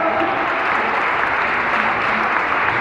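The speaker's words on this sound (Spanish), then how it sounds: "¡Un aplauso para ellos, por favor!" Loud, dense applause from a concert audience for a tuna music group, a continuous roar of many hands clapping with no pauses.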